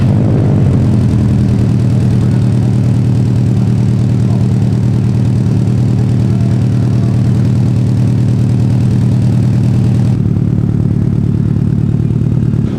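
A Subaru STI idles with a titanium catback exhaust, a loud, steady, deep burbling drone with a slight rhythmic pulse that continues unbroken, then turns slightly rougher near the end.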